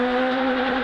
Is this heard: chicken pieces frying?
no